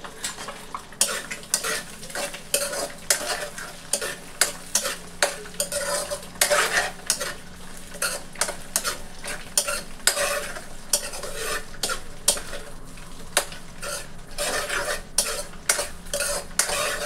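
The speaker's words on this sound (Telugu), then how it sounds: "ఇప్పుడైతే ఎల్లుల్లిపప్పు అయితే వేసుకుంటున్నానండి" Garlic sizzling in oil in a pan for egg rice, with sharp repeated clinks and scrapes of a metal spoon stirring against the pan over a continuous frying hiss, close up and with no talking.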